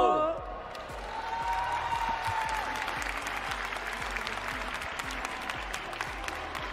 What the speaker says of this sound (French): faites-moi un tonnerre d'applaudissements pour cette dernière équipe